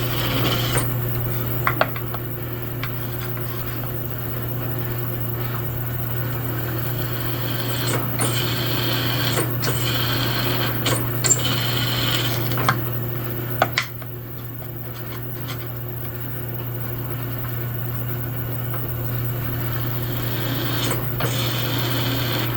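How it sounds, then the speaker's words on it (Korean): A drilling machine bores holes in a car door panel with a steady motor hum and scattered scraping and rasping contacts against the metal, close by and continuous. "우리 바로 이게 이제 드릴링 머신이죠."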